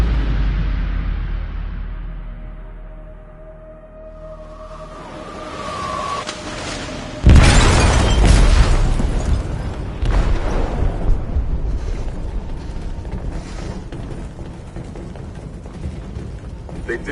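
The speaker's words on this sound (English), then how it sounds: "They detonated an explosive in the hold." An explosive goes off in a ship's hold in the game Detroit: Become Human: a sudden loud deep boom about halfway through, followed by a long rumbling roar, with talking before it.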